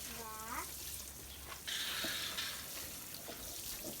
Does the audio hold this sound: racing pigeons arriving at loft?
no